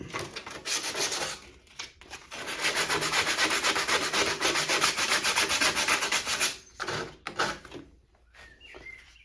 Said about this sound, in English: I'm going to knock this bit down with a bit of 180 grit